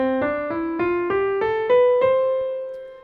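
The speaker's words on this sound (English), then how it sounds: "a major key sounds like this." A piano plays a rising major scale, one clear note at a time at an even pace, the last note left ringing; no talking.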